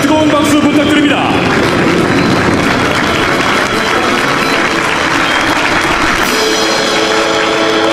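Crowd applause at a Black Eagles air show on Korea's Armed Forces Day, after a wedge break maneuver. The dense, loud clapping holds steady from start to end, with no pauses.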